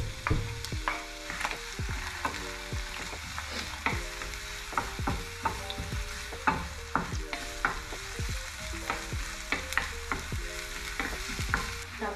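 Chopped onion hits a little hot oil in a pan and sizzles and crackles as it is stirred, with repeated scraping strokes over a steady rhythmic tonal backing and no speech.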